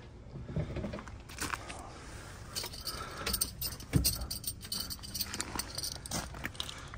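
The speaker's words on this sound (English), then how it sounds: "Let me grab the keys and I'll open the trunk." Keys for a pink 1970 Plymouth Duster jangle and clink in short bursts close by, with soft handling and a few footsteps in a quiet setting, no talking.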